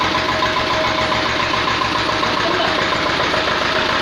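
1979 Sartaj antique tractor engine idling, a loud, steady, rhythmic diesel chug held up close and unbroken throughout.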